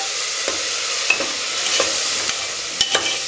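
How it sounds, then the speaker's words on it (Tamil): Onion and masala paste sautéing in a pan for bottle gourd biryani makes a continuous close sizzle, broken by several scraping strokes of a spoon against the pan. "இதை சேர்த்துட்டு நல்லா வதக்கி விடுங்க."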